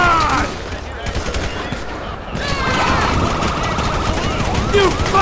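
Gunfire rattles through a police shootout in GTA 5: rapid bursts of shots over sirens and constant game noise, loud and close, with talk over the top.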